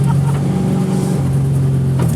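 A V8-swapped Toyota Corolla AE86 on a race track gives a loud, steady engine drone from inside the car, holding a constant note with slight shifts in pitch and no pause.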